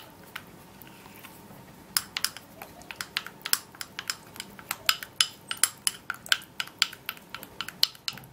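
A spoon clicks and taps rapidly against a bowl while face mask ingredients are stirred together, a close, crisp run of irregular ticks that quickens and stays busy to the end.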